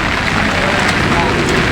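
Steady, dense hiss of heavy rain pouring down at a livestock auction market in Lucena, constant and loud throughout with no breaks.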